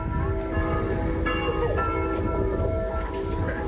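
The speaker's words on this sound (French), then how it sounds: "Ce que vous entendez, ce sont les derniers sons de cloche de leur église." Church bells of the village church of La Baconnière, the last peals before its demolition, ringing out in sustained overlapping tones, moderately near and steady with a low rumbling background.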